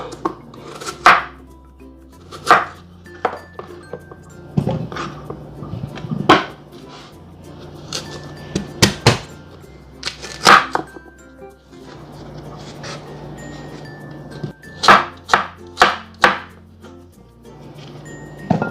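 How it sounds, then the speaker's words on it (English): A knife chops through sweet potatoes on a cutting board in irregular, close thuds and clicks, with brief pauses between bursts of cuts and some clinking of kitchen items, no speech. "you just want to go ahead and cut them up so they can boil evenly"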